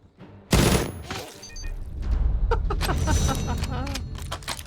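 Gunfire in a video game firefight: a sharp loud blast, then a dense rattle of rapid shots with booming impacts, close and continuous for several seconds, with a few brief game voice sounds mixed in.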